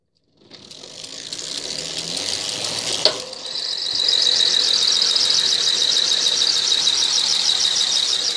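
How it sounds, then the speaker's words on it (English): A bicycle cranked by hand with its wheel spinning, a rising whir with ratcheting freewheel clicks, then a steady high-pitched whining spin after a brief clunk, close and fairly loud. "let me crank up the bike and you can see what's happening here"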